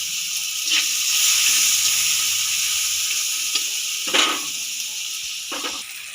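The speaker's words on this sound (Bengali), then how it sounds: "এই তেলেই করলা আর হলুদ মাখানো আমি করলাটা এবার ভেজে নেব" Bitter gourd pieces coated in turmeric sizzle in hot oil in a pan, a steady close frying hiss with a few sharper crackles and stirring scrapes.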